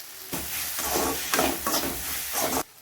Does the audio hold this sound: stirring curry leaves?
yes